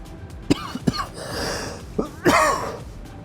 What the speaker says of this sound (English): gosh, that cough sucks.